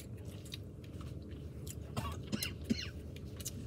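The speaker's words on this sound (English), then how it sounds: "It's really chewy. And it's getting in my teeth." Mouth noises from someone chewing sticky, chewy watermelon-flavored candy, soft and close with a few brief smacks and crunchy bites over a low background hum.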